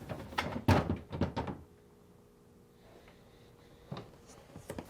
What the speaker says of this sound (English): Now, remove the top drawer by sliding it out and lifting up.